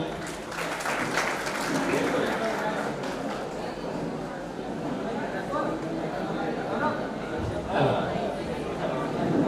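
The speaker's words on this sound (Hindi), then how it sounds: "जोरदार तालियां हमारे प्रिंसिपल सर के लिए।" A crowd applauds steadily for the college principal at an alumni meet. The dense clapping runs for about nine seconds without a break, with light chatter mixed in.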